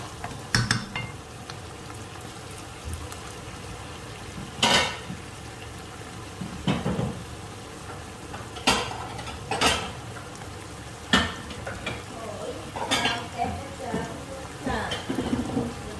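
Eggplant and pork stir-fried in a pan for a spicy-sweet dish, with a steady sizzling bed broken by about eight sharp scraping and clattering strokes of the spatula, fairly close and without talk.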